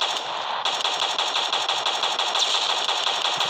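Dense, rapid machine-gun and rifle fire from a World War 2 video game: loud, continuous volleys of overlapping shots with no pauses and no voices.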